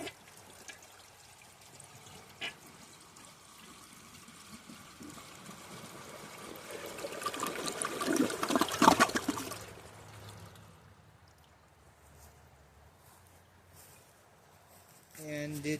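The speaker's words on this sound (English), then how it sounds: "And it did siphon." A 2004 Kohler Kathryn toilet flushing and siphoning, faint water rushing that swells to a gurgling peak then drains away, heard up close at low level.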